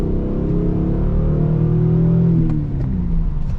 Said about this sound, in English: Stock exhaust, stock intake, I believe, but still got a nice sound.